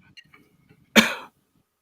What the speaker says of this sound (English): So that's a little cough going